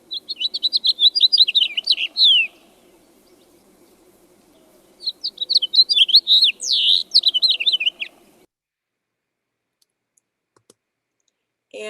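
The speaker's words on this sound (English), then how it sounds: "this is male and female house finch. And I will play their song for you." House finch song: two bursts of bright warbling, twittering phrases, each a couple of seconds long, separated by a pause, clear and close over faint background hum.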